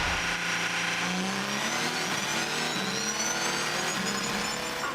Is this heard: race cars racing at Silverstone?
yes